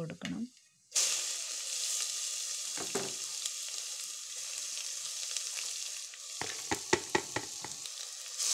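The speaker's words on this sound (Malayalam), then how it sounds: "ആദ്യം തന്നെ ഞാൻ കടുക് പൊട്ടിച്ച് അതിലോട്ട് ഈ അരിഞ്ഞ് വെച്ചിരിക്കുന്ന ഗ്രേറ്റ് ചെയ്തിരിക്കുന്ന ബീട്രൂട്ട് കടുക് പൊട്ടുമ്പോൾ അതിലോട്ട് ഇട്ട് കൊടുക്കണം" Grated beetroot fries in a pan with popped mustard seeds: a continuous close sizzle after a brief opening sound, then a quick run of sharp crackles and stirring clicks near the end.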